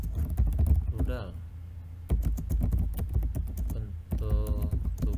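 Computer keyboard typing during a word-processing lesson, dense rapid key clatter throughout, close and loud, with someone talking over it in bursts.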